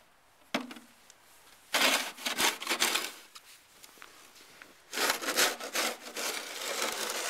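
Snow shovel scraping across snow, several rough, grating strokes in bursts separated by pauses, close by, with no talk over it.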